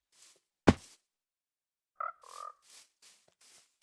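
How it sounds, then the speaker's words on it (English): Frogs croaking in Minecraft Bedrock Edition, a few short separate croaks and soft hops spaced out across quiet gaps, with one sharp thud early on. "Here's some frogs."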